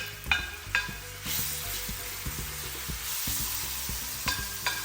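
Meat dropped into a hot pan of toasted spices for a bolognese sauce, sizzling and frying steadily with a few clinks and stirring knocks, close and fairly loud, under light background music.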